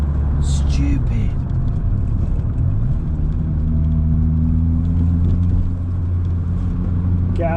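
1980s Renault 21 Turbo accelerating, the engine's low rumble rising as the turbo spools up, loud and steady from inside the car.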